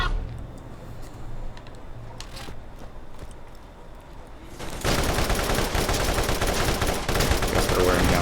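Gunfire in the Borderlands video game: scattered sharp shots early on, then a dense sustained burst of rapid fire, loud and continuous through the second half.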